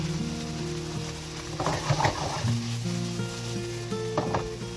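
Garlic sizzles in a hot pan for a Brazilian picadillo, a steady frying hiss with louder bursts of stirring and scraping at intervals, under faint tonal background sound.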